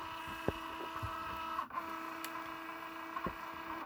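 A Cricut Joy cutting machine works through iron-on vinyl with a steady motor whir and faint carriage clicks, close and alone, without talk.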